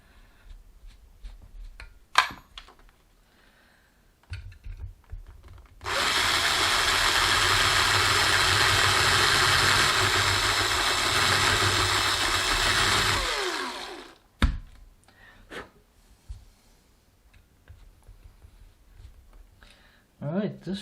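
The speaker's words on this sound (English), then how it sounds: "this should be it for drilling all the holes" An electric drill bores a hole into a guitar body for a Telecaster-style build, running loud and steady for about eight seconds and then stopping, with quieter handling clicks and taps before and after.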